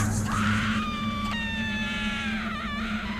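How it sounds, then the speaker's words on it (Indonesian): A woman screams hysterically, crying and wailing in a long, sustained, loud cry with wavering pitch, heard as a horror story sound effect over a steady low hum. "perempuan itu berteriak sangat histeris, seperti menangis dan berteriak-teriak"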